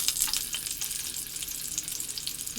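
Egg rolls fry in a Green Life pan, a close, steady crackling sizzle with hissing pops throughout. Nobody speaks over the frying.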